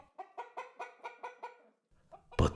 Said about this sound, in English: A hen.